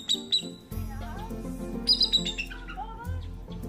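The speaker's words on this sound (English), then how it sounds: "other times you're walking around the corner and they're chirping and yelling" Captive birds chirp and squawk close by, with sharp high calls in bursts over a steady low hum of an indoor enclosure.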